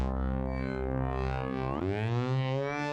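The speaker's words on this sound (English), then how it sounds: "So let's see what suspense bass sounds like, all right?" GarageBand suspense bass synth on an iPad, a sustained buzzy low synth tone that holds steady then bends sharply upward in pitch partway through and keeps droning, alone without talk.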